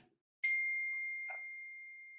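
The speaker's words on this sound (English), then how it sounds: "let me silence my phone" A single clear phone notification ding rings out at moderate loudness and sustains, ringing down slowly, with a softer second chime partway through, in a quiet room with no talking.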